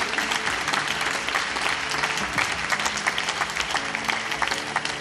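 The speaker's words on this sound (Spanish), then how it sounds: "Fuerte aplauso para todos los participantes." Dense, steady applause from an audience in the Cortes de Castilla y León chamber for student debate participants, many hands clapping continuously at close range for the whole stretch.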